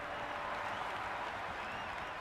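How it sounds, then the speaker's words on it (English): Loud, dense crowd roar with applause from a cricket video game's India vs Pakistan T20 World Cup warm-up match, a steady wall of noise filling the whole stretch with no break. "The crowd are really getting quite raucous."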